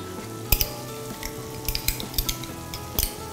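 Tomato paste dropped into simmering bolognese beef sauce in a pan, giving a close, steady sizzle broken by a few sharp clinks and scrapes of a utensil stirring.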